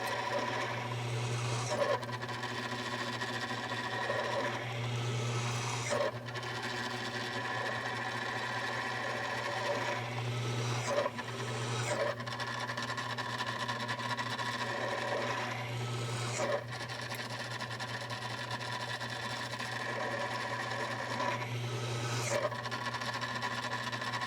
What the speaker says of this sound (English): I'm going to switch out my drill bit, and I'm going to do a bunch more holes